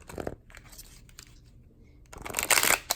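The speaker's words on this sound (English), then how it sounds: "let's give these a quick shuffle" Tarot cards riffle and shuffle close up in a couple of quick bursts, with a louder, crisp flurry toward the end.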